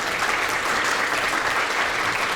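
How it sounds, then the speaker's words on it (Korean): Steady, dense applause from an audience welcoming the guest author at a university library book talk, loud and unbroken throughout with no voices over it. "우선 박수로 환영해 주시죠."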